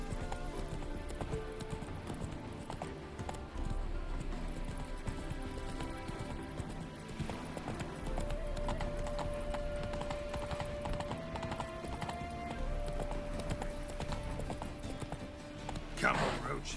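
Geralt's horse Roach gallops in The Witcher 3, with steady, rapid hoofbeats running under game music and a voice speaking, followed by a brief louder burst near the end.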